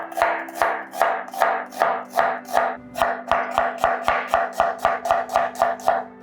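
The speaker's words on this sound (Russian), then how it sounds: "Я лук нарежу перьями, как самый удобный способ лично для меня." A knife slices an onion into thin strips on a cutting board, about twenty crisp, evenly spaced chops in a steady rhythm, close and clear with no talking.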